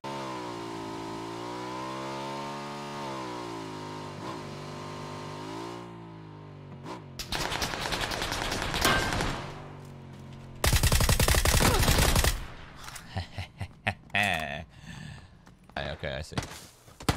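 Gunfire in the PUBG video game, with bursts of rapid automatic shots and sharp single cracks following a stretch of vehicle engine drone, loud and close.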